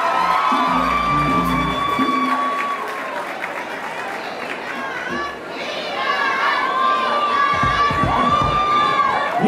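Loud audience applause and cheering at a live music performance, a dense crowd of claps mixed with shouts and high children's voices, sustained throughout with a brief dip midway before swelling again.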